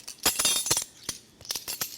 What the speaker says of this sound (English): we're gonna take 3 eggs. Whisk those together.